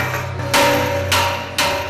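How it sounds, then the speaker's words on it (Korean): A hammer strikes the steel plates of a heavy-duty safe to close the gaps between them before edge welding. Three loud, sharp metallic blows ring out over a steady workshop hum. "망치로 두드려 벌어진 틈을 최대한 좁힌다."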